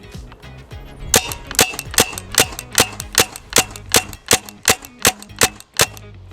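Paintball markers fire at a shed about 30 meters away, producing a rapid run of about a dozen sharp, loud pops at evenly spaced intervals, close to the listener.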